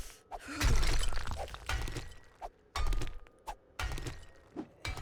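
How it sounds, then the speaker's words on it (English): Coal being mined in the 7 Days To Die survival game, a series of sharp breaking and shattering hits in uneven bursts, fairly close and loud with short gaps between strikes. "I'm going to start mining the coal."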